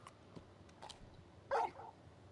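Dog in the Final Fantasy XVI video game giving one short, sharp bark, moderately loud after a few faint soft noises, with no speech.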